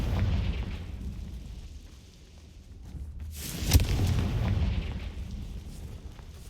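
Confringo fire spell blasts in Hogwarts Legacy, a deep rumbling explosion swelling into a sharp booming burst mid-way, with heavy low roar before and after, loud and near, with no talking.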